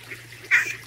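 A duck-like honk from a crawling worm in the game Crawl, Worm, Crawl: one short, fairly loud nasal honk in the middle, over a faint steady hum.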